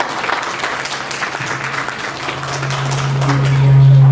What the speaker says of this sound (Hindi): सभी साथियों को एक बार ताली मारते हैं